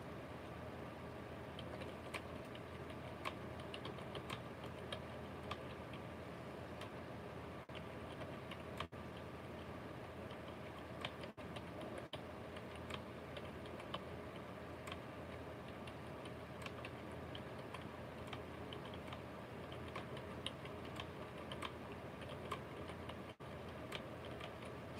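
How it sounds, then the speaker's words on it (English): Quiet, steady clicking of computer keyboard keys pressed in an irregular run, faint against a low background hum. "So I'm typing this."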